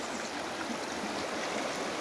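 River water flows in a steady, broad hiss of rushing current, continuous and fairly close, with no voices over it.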